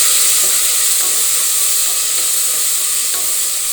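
Chopped onion and potato sauté in oil with a loud, constant sizzling hiss and occasional faint stirring scrapes. No voices.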